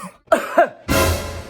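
A cough or two comes through a phone call during a prank call, short and close, followed by a burst of steady line noise.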